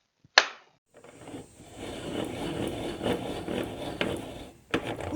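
A table saw blade is cranked upward by hand, making a low, continuous mechanical rubbing and whirring for several seconds after a sharp click, fairly quiet and close.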